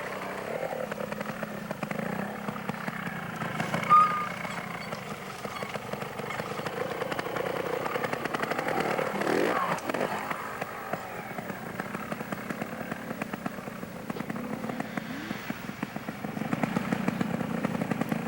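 Trials motorcycle engine at a 1993 club trials event in the dirt, steady mid-pitched running with throttle surges as the bike climbs over logs and around trees, moderately distant and continuous throughout.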